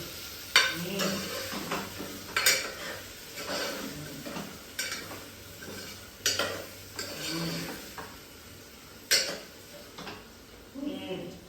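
Cashew and bitter gourd are sautéed in a pan, with soft sizzling under repeated spoon scrapes and stirring clanks against the metal, recurring every second or two at close range.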